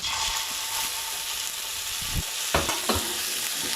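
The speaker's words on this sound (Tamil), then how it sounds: "தக்காளி போட்டு நல்லா வதக்கணும்" Tomato sautéing in a pan with curry leaves for a Chettinad fish curry, a steady close sizzle and fry with a few stirring scrapes and clanks near the end.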